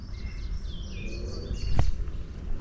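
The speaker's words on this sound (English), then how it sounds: "That's a bird up there that you guys hear." Outdoors, a bird gives several short, high chirps and whistles, faint against low background noise, with a brief thump near the middle.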